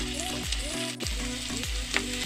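Diced carrots sauté in a pan for tomato soup, giving a steady close sizzle with a few soft scraping stirs and no voices.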